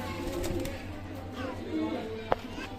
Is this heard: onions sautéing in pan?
no